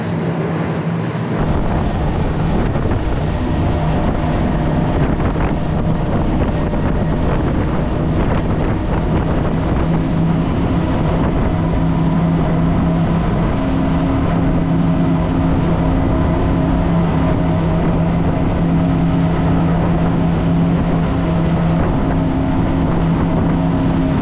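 An Axopar 45 motorboat engine roars continuously with heavy wind buffeting and choppy water slapping the hull in the Bay of Palma, loud and close throughout with no talking.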